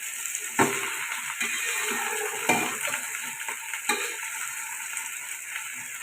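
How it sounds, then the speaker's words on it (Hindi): Okra (bhindi) frying in hot oil, an ongoing sizzle broken by a few louder stirring scrapes and clinks against the pan at irregular intervals. "भिंडियों को हमने तल लेना है, बहुत ज़्यादा भी नहीं तलना,"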